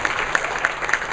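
A crowd at a Miami challenge party breaks into applause. There is a brief burst of dense, even clapping, fairly loud and close, with no voices over it.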